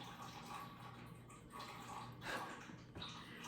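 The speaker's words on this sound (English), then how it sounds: "It's low on water, so now it's trickling." A cat's water fountain that is low on water trickles and drips in a soft, continuous wash, faint and steady with a few slightly louder splashes.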